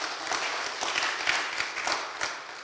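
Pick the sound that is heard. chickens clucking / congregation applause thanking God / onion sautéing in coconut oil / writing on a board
congregation applause thanking God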